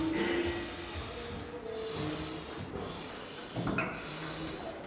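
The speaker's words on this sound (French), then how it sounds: "Écoutez un peu ma respiration à la fin de l'exercice." Heavy, rasping breathing through a training mask after a set of burpees, loud and close, with repeated hissing inhales and exhales in an uneven rhythm.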